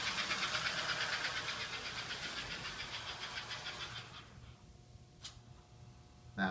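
An American Flyer 332 model locomotive's small electric motor runs after an overhaul, giving a steady close whirring buzz that fades partway through, then a few faint clicks against quiet background hum.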